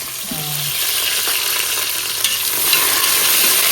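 Onions frying in a pan, a dense continuous sizzle heard close up with a brief low tonal hum at the start and light stirring scrapes later.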